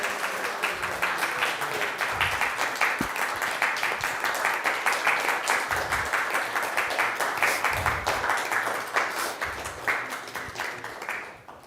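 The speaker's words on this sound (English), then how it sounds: "Let's give her a big round of applause" An audience at a talk gives sustained applause, dense steady clapping that fills the whole stretch before tapering slightly at the end.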